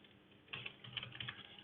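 Fingers type on a computer keyboard in a quick, irregular patter of soft clicks, heard faint and close with no talking.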